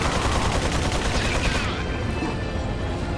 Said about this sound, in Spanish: ¿Quién es el artífice de los disparos?